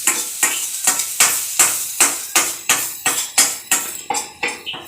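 Tomatoes frying in a pan while cooking a curry: a steady run of about a dozen sharp, regular scraping stirs over bright sizzling, loud and close, with no talking.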